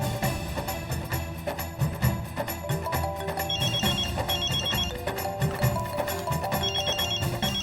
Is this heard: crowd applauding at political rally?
no